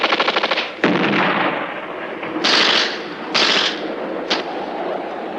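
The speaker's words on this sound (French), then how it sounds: "Il nous tire dessus pour nous retarder." Loud bursts of film gunfire in an action scene: a rapid rattling volley, then several sharp, separate shots spaced a second or so apart, close and dominant with no talk over them.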